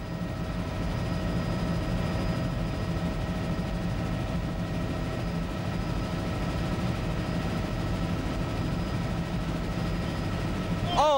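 A helicopter films a water ski race at the 1991 World Water Ski Championships in Darwin, Australia, its steady, loud engine and rotor drone filling the whole stretch without a break.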